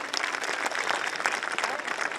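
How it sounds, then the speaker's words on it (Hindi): Loud applause for the speaker at a college annual function, a dense, steady wash of clapping from a large audience lasting the full short stretch without a break. "एक बार सर के लिए जोरदार तालियां।"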